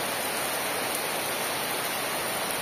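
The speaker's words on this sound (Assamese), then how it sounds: "আকৌ আহি গ'ল বৰষুণ" Heavy rain falling outdoors during a spring Bwisagu festival day, a dense steady broadband hiss without pauses, alone and fairly loud.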